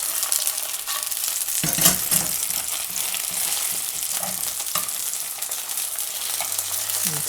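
Veggie sausages fry in a pan with a steady close sizzle, with occasional clicks as chopsticks turn them, and no talking.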